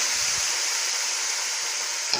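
Potatoes hitting a hot spice mix in a pan, a loud, even, continuous sizzle that holds steady throughout, with a faint clink near the end.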